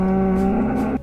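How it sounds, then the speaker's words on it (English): A single sustained moo from a cow in the video game Minecraft Alpha 1.1, loud and close with a steady low tone, cutting off abruptly near the end. "a friendly moo"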